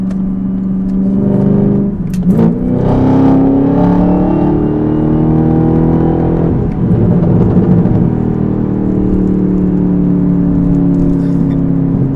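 A Chevrolet ZL1 Camaro engine revs hard under acceleration, a loud, sustained drone that climbs in pitch, dips at a shift, then pulls again, close and continuous with no talking.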